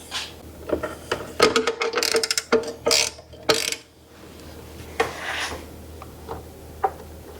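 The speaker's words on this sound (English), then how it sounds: "So now all I have to do is tighten up this bolt here." A bolt on a miter saw is tightened by hand, giving a series of close, sharp metallic ratcheting clicks and clanks in uneven bursts, then quieter scattered ticks.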